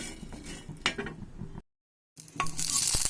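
Jackfruit seeds dry-roasting and being stirred in a pan, with scraping clinks and a soft sizzle, broken by a short silent gap before the stirring resumes, close and fairly loud.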